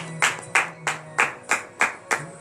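A congregation at a morning prayer gathering claps together in steady, loud unison, roughly eight sharp beats in a regular rhythm with a faint hum beneath.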